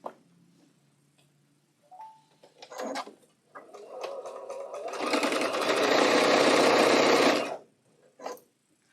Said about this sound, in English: So I'm going to sew these together just like this. First, we're just going to chain piece all of these.